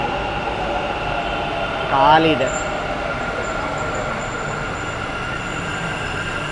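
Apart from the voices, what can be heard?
metro train arriving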